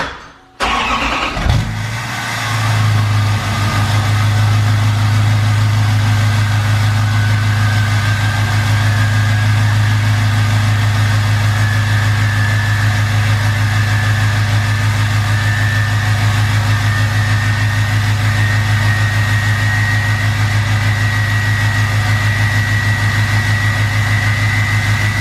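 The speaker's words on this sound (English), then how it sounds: "the slightest bit of throttle, you can hear that turbo just spool right up" Car engine with a new Stealth 67 V2 turbo idles steadily and loudly after a brief start-up, a constant low drone with a faint high turbo whine running throughout, no voices.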